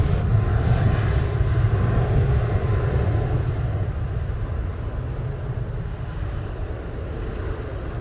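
An airplane on approach to runway 07 at Montego Bay, Jamaica, roars as a loud, steady low engine drone with wind buffeting the microphone, easing slightly as it passes.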